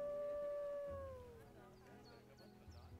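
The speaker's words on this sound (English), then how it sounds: "I can hear you howling. We have timberwolves." A timber wolf in the zoo-building game Planet Zoo lets out one long, clear howl that slides downward in pitch, then fades into soft game ambience with faint chirps.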